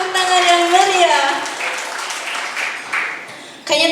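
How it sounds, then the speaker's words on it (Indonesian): Audience applause at the opening ceremony of a national accounting seminar, rising after a voice at the start into a steady, dense wash of clapping that fades slightly before a sharp burst at the end. "Kita berikan tepuk tangan yang meriah."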